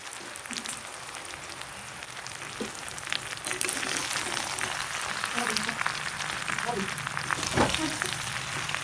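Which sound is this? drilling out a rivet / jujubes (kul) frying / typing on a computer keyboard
jujubes (kul) frying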